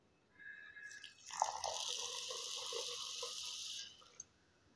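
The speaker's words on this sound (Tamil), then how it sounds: "இப்போ இதை அரிசியை நாம் நல்லா கழுவி எடுத்துக்கிறலாம்." Raw ration-shop rice is swished and rinsed in water in a bowl, giving soft close sloshing and dripping that rises after a moment, holds steady, then stops with a small final splash.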